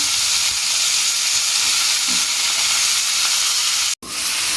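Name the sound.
pointed gourd (potol) frying in oil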